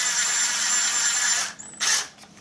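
A power gun drives bolts through a gasket on a seized Kohler Courage engine, a steady loud whirring whine that cuts off, then a short second burst, with no talking.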